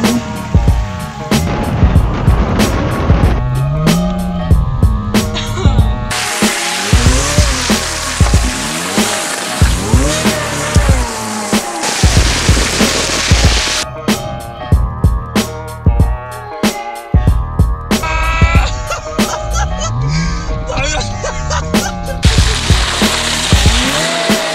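A tuned street car drifts on snow through repeated laps, engine revving hard with sweeping pitch changes and bursts of tire squeal, loud and close, interrupted by sharp clicks and brief gaps.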